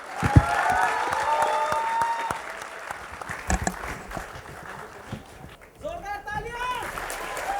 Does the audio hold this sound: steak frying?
no